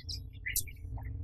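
Pet birds chirp close by in a home, a few brief high tweets and twitters scattered over a low room hum, with no talking.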